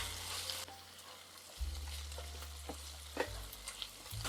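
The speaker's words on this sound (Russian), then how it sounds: "Лук с беконом обжарились." Steady sizzling of onion and bacon frying in a pan, with a low hum underneath and a few scraping stirs.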